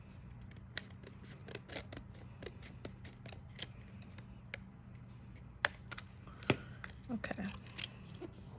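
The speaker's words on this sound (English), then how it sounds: "if it doesn't line up, just cut a little bit off there." Scissors snip plastic for a handmade lantern Christmas card in a string of quick, light, close cuts with small pauses between them, and a brief spoken word partway through.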